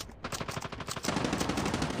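Rapid gunfire crackles in the Call of Duty Mobile shooter game, a dense run of close, loud bursts in quick succession.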